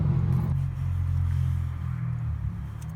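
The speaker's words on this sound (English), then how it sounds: "the noise you're hearing is the catch pan being slid underneath where the oil" A metal oil catch pan slides under a truck during an oil change, giving a low, steady scraping rumble close by that runs for the whole stretch, with no talk over it.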